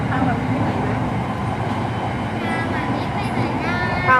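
A Red Line commuter train rolls along with a steady low rumble and rattle heard from inside the car, with people talking over the continuous train noise.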